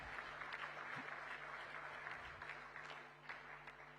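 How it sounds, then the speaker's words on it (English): Very faint, distant applause from the audience at a national chamber of commerce convention in Mumbai, honoring a dignitary, a steady wash of clapping with a low hum underneath that slowly fades. "give him a big, big round of applause to express our gratitude"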